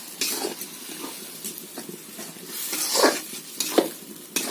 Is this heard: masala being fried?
yes